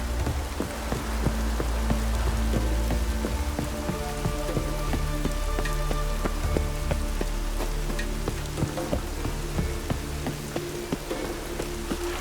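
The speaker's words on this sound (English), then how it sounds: "Maybe we needed a spot of rain." Steady rain in The Witcher 3: Wild Hunt patters and splashes on a hard surface, dense and continuous with sharp droplet ticks, under a low rumbling backdrop.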